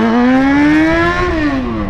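A Yamaha XJ6 motorcycle engine revs loudly and close, its pitch climbing steadily, then dropping off near the end.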